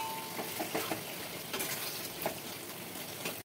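Chicken frying in a pan over a medium flame, a steady close sizzle with scattered light pops and crackles running throughout, no voices.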